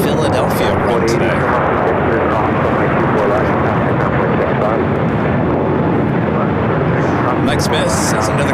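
An airliner landing on runway 24 right at LAX makes a loud, continuous broadband roar that fills the whole stretch, with wind buffeting and a voice talking underneath.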